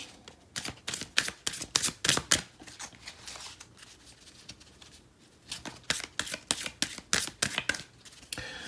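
Earth Wisdom Oracle cards are shuffled close up in quick bursts of crisp riffling flutters, a pause in the middle, then another run of rapid card slaps.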